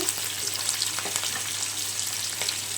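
Tomatoes sautéing in a pan for sambar, a steady close sizzle and frying hiss with faint stirring clicks, continuous throughout with no voices.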